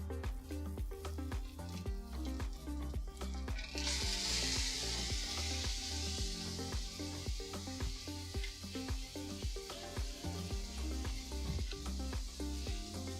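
A Salisbury steak patty sears in a hot pan with a steady, soft sizzle and frying crackle. Faint clatter and a rhythmic thumping sit under it, and the sizzle briefly grows louder partway through.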